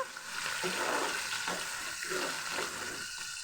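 Onions and garlic paste frying in a pan for a dried shrimp curry, a steady close sizzle with soft stirring scrapes and no talking.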